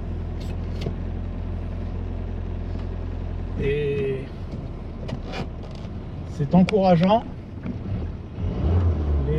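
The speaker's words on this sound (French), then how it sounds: "Nous voici donc au volant de la BX Sport qui a plutôt bien démarré" A 1986 Citroën BX Sport with twin carburettors hums steadily from inside the cabin while driving, a low, even engine drone beneath someone speaking French and a few brief clicks and squeaks.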